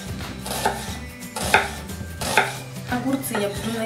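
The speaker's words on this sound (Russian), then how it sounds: "Теперь нарезаем лук полукольцами." A knife slices an onion into half rings on a cutting board in a home kitchen, giving a series of distinct crisp chops at an uneven rhythm, close and fairly loud, with no talking.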